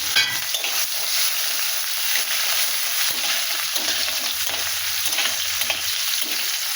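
Onion, chili and whole cumin seeds fry in hot oil with a loud, continuous sizzle, and rhythmic stirring scrapes recur throughout.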